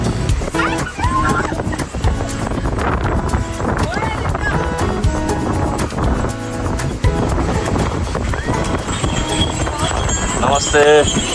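Horse hooves clip-clop along a high mountain trail on the Langtang trek in Nepal, a fairly close, irregular clatter of steps with voices talking over it and wind in the background.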